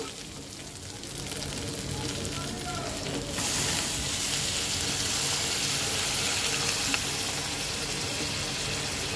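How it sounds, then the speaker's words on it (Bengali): Water poured into sizzling masala for a Bengali fish curry gravy, the frying hiss jumping suddenly louder and brighter partway through as the liquid hits the hot pan, then holding a steady broad sizzle. "তো এখন আমি দিয়ে দেবো ঝোলের জন্য জল"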